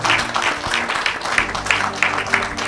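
A church congregation applauds an evangelist, loud continuous clapping from a crowd filling the room, with a faint voice underneath.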